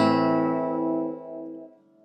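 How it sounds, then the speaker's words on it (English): One chord strummed on a nylon-string ukulele, warm and ringing, fading away over roughly two seconds with nothing else heard. "And if I make that yellow shape chord, like on the ukulele,"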